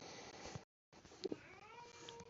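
A house cat meows indoors, a short close mew breaking through faint room noise after a brief dropout, followed by a softer drawn-out tail.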